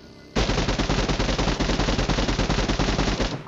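An AKM-style rifle in a battle royale shooter fires a long, rapid, continuous burst. The shots come close and loud at a fast, even rhythm for about three seconds.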